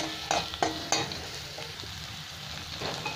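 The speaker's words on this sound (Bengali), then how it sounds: "এক 2 মিনিট এই মশলাটাকে ভেজে নেবো" Garam masala spices fry in a pan for a Bengali kata chorchori, giving a soft steady sizzle broken by three sharp spoon-against-pan clinks early on, with a quieter scrape near the end.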